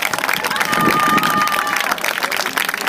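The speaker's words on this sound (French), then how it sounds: "Allez, un tonnerre d'applaudissements pour vos poussins," A crowd at a children's under-9 final applauds and cheers in a dense, continuous roar lasting a few seconds, with a whistle-like tone briefly rising above it.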